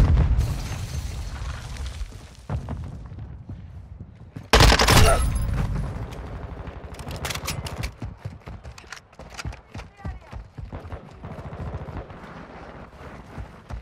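Semtex grenade blasts and gunfire in Call of Duty: Modern Warfare II, a sudden loud explosion about a third of the way in amid scattered booms, pops and rapid shots, with faint voice chatter in the mix.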